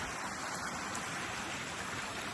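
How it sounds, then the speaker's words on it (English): A mountain creek with a small waterfall rushes steadily near aspen trees, a constant broad splashing hiss with no pauses and no voices. "Look at that creek, little waterfall."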